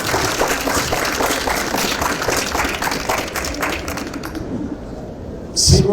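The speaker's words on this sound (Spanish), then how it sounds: "Así que démosle un aplauso" Audience at an academic panel on transnational higher education applauds a panelist, with dense, steady clapping that tapers off toward the end, followed by a brief louder sound.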